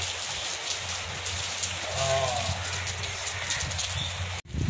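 Rain falls steadily outdoors, a constant hiss of drops with low background rumble and a brief sharp knock near the end.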